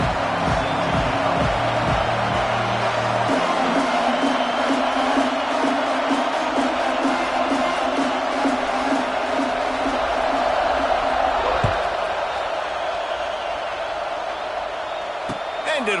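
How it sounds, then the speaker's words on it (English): A stadium crowd in an EA Sports college football video game roars continuously at a loud, even level through the whole stretch, with commentators talking over it. "This crowd ready to make its presence known."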